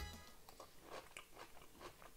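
Close, quiet crunching bites into crisp pickled zucchini briefly sterilised for five minutes, several rapid crackly crunches in a short burst with no talking.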